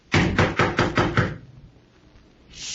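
Six firm knocks rap on a wooden door in an old-time radio drama, evenly spaced and close, followed by a quiet pause with no voices.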